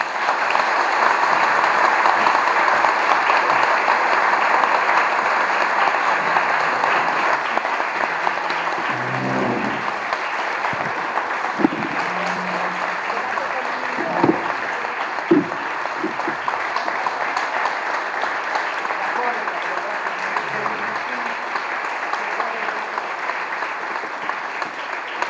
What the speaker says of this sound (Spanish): Yo creo que podemos aplaudirlo todos y por mucho tiempo